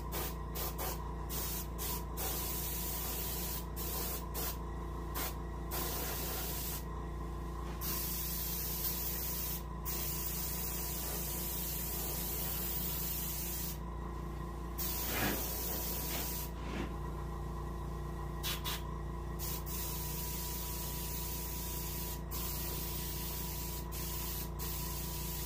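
Steady hiss of an airbrush spray-painting an arctic char fish for taxidermy, running continuously with brief pauses, close and even in level.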